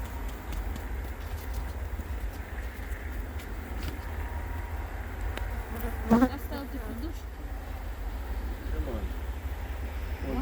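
Many honeybees in a hive buzz continuously in a dense, steady drone, with a brief louder whir partway through.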